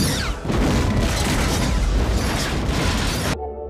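A loud, rumbling alien weapon blast effect from the film Independence Day erupts and rolls on for about three seconds with crackling debris, then cuts abruptly to a faint low hum.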